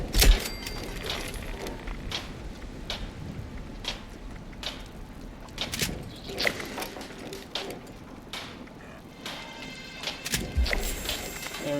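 Cryo blade melee strikes in Fallout 76, sharp whooshing swipes and thuds landing at irregular intervals over a steady game background.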